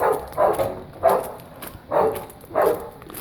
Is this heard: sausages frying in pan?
no